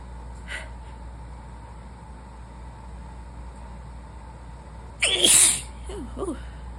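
A person with a fresh cold lets out one sharp, loud sneeze near the microphone after a quiet stretch, followed by a short breathy snort.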